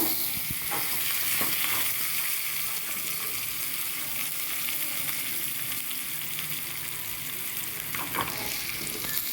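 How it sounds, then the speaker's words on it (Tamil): Half an onion fries for tempering a manathakkali greens kadaiyal, giving a steady close sizzle with occasional scraping stirs. "அந்த அரை வெங்காயத்தை சேர்த்து தாளிச்சுக்கோங்க"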